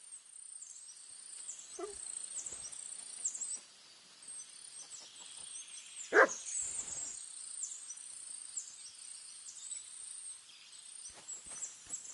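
In Kingdom Come Deliverance II, the dog Mutt gives a single short bark in the middle of a quiet outdoor scene. Constant high insect and bird chirping fills the background, with a few faint knocks and no speech.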